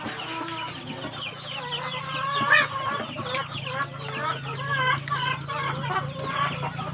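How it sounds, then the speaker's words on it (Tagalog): A flock of heritage Hubbard chickens cluck and chatter continuously at close range in a farm coop, a dense overlapping flock sound with occasional louder squawks and a steady low hum beneath. "silipin po natin ang ating mga alagang manok dito po sa ating Hubbard room"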